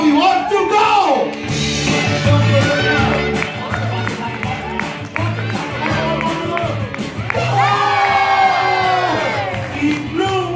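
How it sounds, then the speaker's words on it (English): A crowd of children and adults at a bird show race in Creek Park, Dubai, cheering, whooping and yelling loudly and nonstop, with voices overlapping the whole time. "Cheer loudly."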